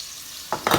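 Apples caramelising in a frying pan while being turned give a quiet hiss that suddenly bursts into a louder, close sizzle partway through, with no talking.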